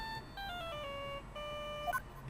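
A lost phone rings in the Phoenix Wright video game, a faint electronic ringtone of descending beeping tones in two short phrases, followed by a brief higher chirp.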